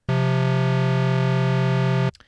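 Two sustained tones sounding a perfect fourth together in Bitwig Studio, held evenly for about two seconds with a bright, buzzy timbre, then cut off abruptly.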